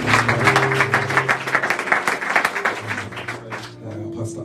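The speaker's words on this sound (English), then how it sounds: "Let's give them a round of applause." A church congregation breaks into a warm round of applause, dense overlapping clapping filling the room for several seconds with a few voices mixed in before it tapers off.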